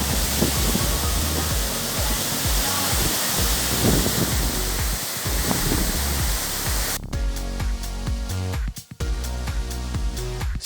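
Skogafoss waterfall in Iceland, about 60 meters high and 25 meters wide, roars as a steady, loud wash of rushing water that fills the air, with no voices.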